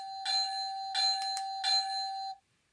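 Electronic bell from an Atlas Trainkids glow-in-the-dark toy train set, three bright ringing dings in quick succession, close and clear against silence.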